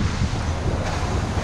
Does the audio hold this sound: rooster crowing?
no